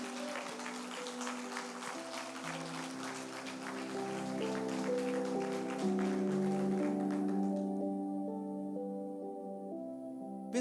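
Congregation applauding during a church sermon, a steady broad clapping texture under sustained organ or keyboard chords, the clapping thinning out toward the end while the music carries on.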